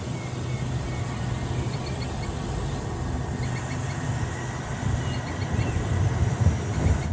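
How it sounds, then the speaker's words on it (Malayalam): Malaysian jungle train on the Johor Bahru to Tumpat line, nearing Dabong station, rolls along with a steady, close, low rumble and clatter that swells slightly toward the end. "ട്രെയിൻ ഇപ്പോൾ ദാബോങ് എന്ന ഒരു സ്റ്റേഷനിലേക്ക് ഇതാ എത്തുകയാണ്"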